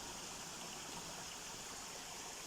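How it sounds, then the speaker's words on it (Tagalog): A mountain stream flows steadily along a hiking trail, giving a constant broadband rush of moving water with no breaks and no voices. "May stream pala dito"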